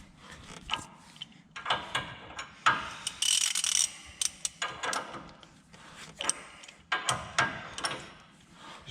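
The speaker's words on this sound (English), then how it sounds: "this is a 1 1/4 inch wrench. And just adjust it out." A 1 1/4 inch wrench adjusts the steering tie rod length on a heavy-duty Dodge Ram 2500/3500, giving close metallic clicks, ratcheting and scraping bursts in an irregular rhythm, without speech.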